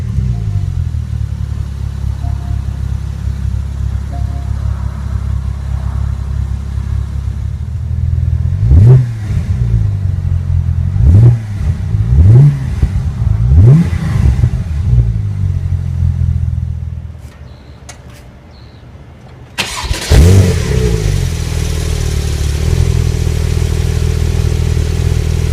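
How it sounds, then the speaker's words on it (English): A car engine idles with a steady low rumble, revs in several sharp bursts, goes quiet briefly, then fires up again and keeps running, heard close up without talking. "let's jump into the driver's seat, start it up and see how it sounds"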